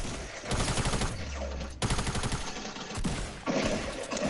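Rapid automatic gunfire in a first-person video game shooter, loud repeated bursts of rattling shots with short pauses between volleys, a player speaking briefly under the noise.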